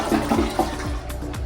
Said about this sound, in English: It's an American standard. Let's make sure it flushes properly.